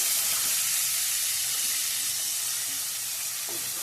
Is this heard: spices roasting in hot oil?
yes